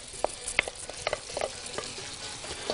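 Drained soaked rice is stirred into a chicken mixture in a pot, with soft scraping and gentle clinks of a spoon over a low, quiet sizzle.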